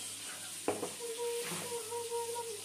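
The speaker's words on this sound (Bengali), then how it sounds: "এই যে টাকি মাছ ভাজি করতেছে" Taki fish frying in a pan in a home kitchen: a soft continuous sizzle with a single sharp knock or scrape of a utensil and a faint hum beneath, fairly quiet and close, with no talk.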